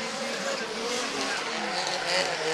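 Drift cars, including a yellow Nissan S15, sliding through a Formula Drift battle with a loud, distant wash of engine roar and tire squeal, while a commentator talks over it.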